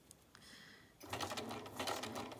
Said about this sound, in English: I'm going to switch it to a straight stitch, and this will go a lot quicker